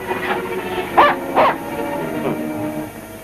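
A dog lets out a few whimpering yelps, two sharper cries close together, over a low steady background hum.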